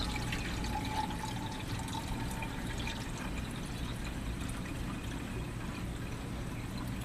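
Coolant runs and glugs out of the radiator overflow on a rusty Slant Six engine, a steady close liquid pouring sound that continues alone under a low engine rumble.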